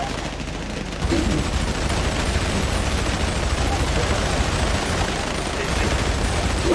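Dense, continuous bursts of gunfire from the GTA 5 video game fill the scene loudly, with a voice briefly heard beneath the shooting.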